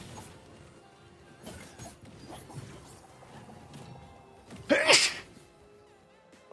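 A single sharp sneeze from someone close to the mic during a live WayFinder gaming session. It bursts out suddenly over quiet game sounds and a faint background hum.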